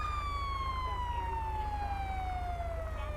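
A police siren in GTA 5 wails steadily with a slowly falling pitch over a constant low engine-like hum, sounding synthetic and continuous throughout.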